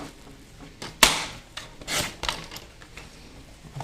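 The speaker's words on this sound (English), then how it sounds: "So I'm just going to use my trimmer." A paper trimmer slices through card stock, giving a sharp snap followed by a few soft scraping and rubbing strokes, close and fairly quiet with no talk.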